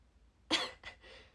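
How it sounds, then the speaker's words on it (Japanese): A single sharp cough followed by a softer second cough, close to the microphone in an otherwise quiet room. "大きい声出すとさ、すぐ咳出ちゃうんだよね。"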